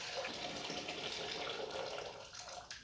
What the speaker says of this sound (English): So to speed things up, I'm using some boiling water from a kettle.